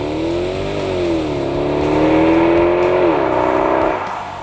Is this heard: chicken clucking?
no